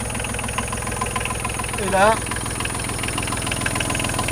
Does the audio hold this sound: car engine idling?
yes